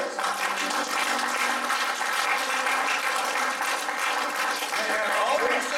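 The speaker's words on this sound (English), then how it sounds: "Give the Lord a hand clap of praise." A church congregation claps in praise, a continuous, evenly dense wash of many hands throughout, fairly loud, with faint voices mixed in underneath.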